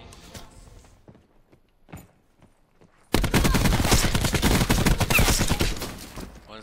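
Rapid video-game gunfire erupts loud and dense about three seconds in, a sustained barrage of overlapping shots that follows quieter scattered noises and soft movement.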